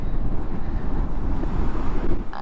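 Strong wind buffeting a microphone outdoors at the roadside on the Mexico–USA border route, a loud, continuous low rumble with gusty swells and no speech.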